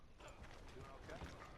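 Horse hooves clip-clop in Red Dead Redemption 2, a soft, steady patter low in a busy game mix with a faint ambient bed throughout.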